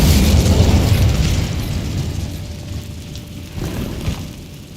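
An Incendio fire spell in Hogwarts Legacy bursts into a loud, close explosive whoosh and rumble that decays over a few seconds, followed by a smaller crackling pop near the end.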